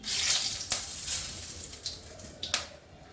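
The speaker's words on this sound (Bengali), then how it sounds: "শুকনো লঙ্কা ফোড়ন করছি, তেজপাতা দিচ্ছি" Dried red chilies and a bay leaf sizzling in hot oil, a loud steady frying hiss with a few sharp crackling bursts, close up with no talking.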